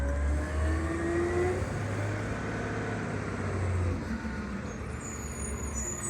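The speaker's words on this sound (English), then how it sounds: "y'all need to wait till the garbage truck is done" A McNeillus ZR garbage truck working its route at night, heard as a steady, loud low engine rumble and drone with hydraulic whine, continuing without a break throughout.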